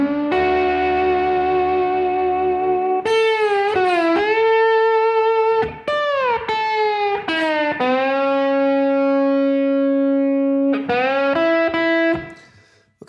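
An electric slide guitar in open E tuning plays a slow blues lick with gliding pitch bends and sustained notes, slightly distorted with echo, clear and alone.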